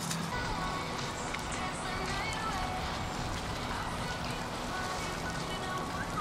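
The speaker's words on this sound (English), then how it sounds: "I spoke too soon, because as soon as I said something, now it's raining again." Steady rain falls at an outdoor cross-country race venue in Portland, a dense continuous hiss with a faint low hum underneath and no talk.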